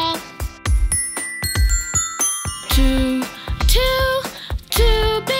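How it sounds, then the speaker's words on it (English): Big bells ring out in a children's nursery song, striking in a steady series of bright, resonant ding-dong tones, each ringing briefly before the next. "2 big bells. Ding, ding, ding."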